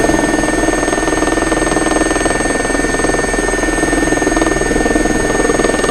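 Helicopter in a flight simulator game, a loud continuous rotor and turbine drone with a rapid steady blade pulse and high whining tones, droning on without pause.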